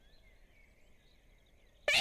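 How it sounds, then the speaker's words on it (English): After near silence, one sharp, loud human sneeze bursts out right at the end and is cut off abruptly. "Hold on, I gotta sneeze now."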